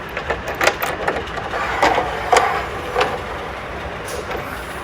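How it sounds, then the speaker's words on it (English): Tonneau cover clamps sliding into a pickup truck bed rail, a run of scraping, clicking metal-on-metal knocks up close, uneven and busy, with no talking. "Now we can slide the new tonneau cover clamps in the rail."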